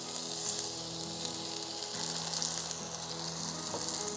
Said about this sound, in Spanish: Vamos a poner un poquito de aceite de oliva para sellar la carne por ambos lados.